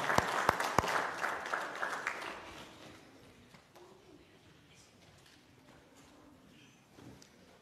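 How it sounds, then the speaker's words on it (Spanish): A church congregation at an Easter Sunday service claps for the children, a burst of applause with sharp individual claps that fades after a couple of seconds into quiet room noise. "Démosle un fuerte aplauso a nuestros niños y niñas del día de hoy."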